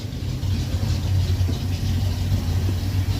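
A 1965 Dodge D100 truck with a big cam idles, a loud, close, lumpy low rumble holding steady throughout.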